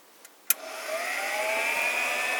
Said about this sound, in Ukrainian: вмикаємо вентилятор